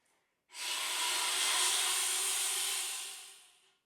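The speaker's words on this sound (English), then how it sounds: "if you're more comfortable just doing an air sound without the pitch bend" A single breathy rush of air through a saxophone with no clear pitch, starting suddenly and fading out after about three seconds.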